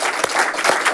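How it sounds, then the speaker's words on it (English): Brief burst of audience applause at a think-tank talk held by the Asia Society, steady dense clapping filling the whole moment with no voices over it. "A round of applause for Orville, please."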